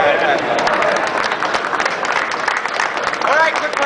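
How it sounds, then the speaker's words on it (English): An audience at a live gun-spinning show claps in a steady burst of applause, moderately loud and continuous, with a voice talking over it. "quit clapping, I can't go on forever"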